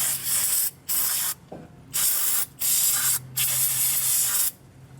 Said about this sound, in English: I went ahead and just sprayed down the braking surface with that brake cleaner